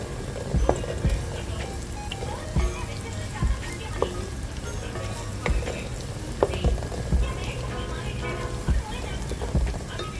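Green chillies fry in oil for king fish biriyani, giving a steady, soft sizzle with intermittent stirring clicks and scrapes while a person talks over it.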